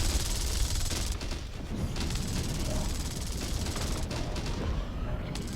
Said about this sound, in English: some sort of energy weapons